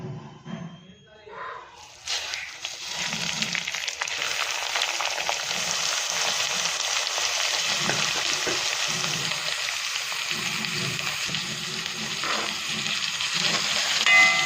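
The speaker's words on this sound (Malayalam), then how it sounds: "ഇനി നമുക്കൊന്ന് വറുത്തെടുക്കാം ചട്ടി ചൂടായി വന്നിട്ടുണ്ട് കുറച്ച് എണ്ണ ഒഴിച്ചു കൊടുക്കാം" Steady, loud sizzling of grated coconut frying in oil in a hot pan throughout, with occasional stirring scrapes and a low voice murmuring underneath.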